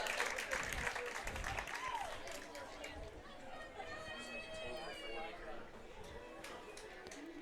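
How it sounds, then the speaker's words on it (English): Fans cheer and applaud at an Ultimate frisbee exhibition game between Portland Rising and New York Gridlock before the fourth quarter, a steady crowd roar with clapping and chatter under continuous talk. "Some fans pumping up the crowds here as we get ready to head into the fourth quarter of action"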